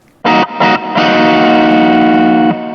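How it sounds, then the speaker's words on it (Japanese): Distorted electric guitar played through a BOSS GX-1 with a large ambience reverb set high: two short stabbed chords, then a long sustained chord that rings out with a spacious, lingering tail. "今はあえてアンビエンスっていうすごい大きい広がりのものをレベル80っていう多めに分かりやすくかけたんですけれども"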